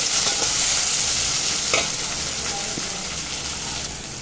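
Tomatoes and onions sauté in a pan for a Tamil soya chunks fry, giving a steady close sizzle and frying hiss with a few light stirring scrapes throughout.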